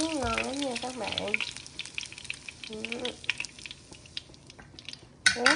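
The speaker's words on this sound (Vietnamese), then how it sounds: "mình chiên dần dần như nè" Shrimp cakes fry in a pan with soft, faint sizzling and crackling beneath a voice, while utensils clink and scrape against the pan now and then, with a sharper clatter near the end.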